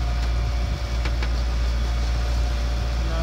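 A sailboat's inboard engine drones steadily as the boat motors out of a bay in the Greek Cyclades, a loud, constant low rumble with no talk.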